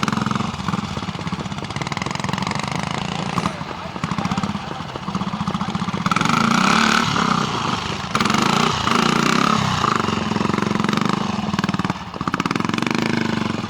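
A BSA C15 trials motorcycle engine runs on a rough lane at a trials event, its loud, continuous engine note rising and falling as it is revved, with voices in the background.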